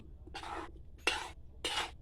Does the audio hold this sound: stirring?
yes